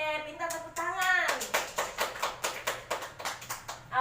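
Schoolchildren in an Indonesian classroom clap in a steady rhythmic pattern of sharp, evenly spaced claps, close and fairly loud, after a short burst of speech at the start.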